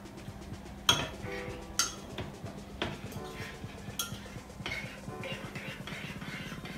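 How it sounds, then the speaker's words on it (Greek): A spoon stirring a breakfast mixture in a bowl, a rhythmic series of clinks and scrapes, a few sharper knocks early on, then steady quicker stirring. "Στη συνέχεια ανακατεύουμε καλά."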